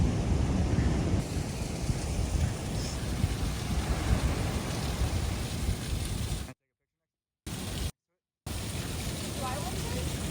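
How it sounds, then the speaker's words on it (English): Waterfall on the Lost Coast Trail, a steady broadband roar of falling water heard up close and continuous, with two short complete dropouts near the end. "here's our first epic waterfall of the day."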